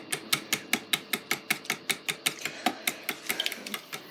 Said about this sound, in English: crack the eggs into the milk and then whisk. Whisk with a fork.